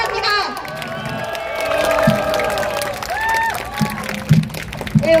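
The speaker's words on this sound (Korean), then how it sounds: "우리 이순양이 다시 한번 큰 박수 부탁드립니다" Crowd noise with cheering and scattered clapping at an outdoor youth policy rally for a Korean presidential candidate by the Cheonggyecheon stream, a steady murmur of many people with a few sharper bursts toward the end.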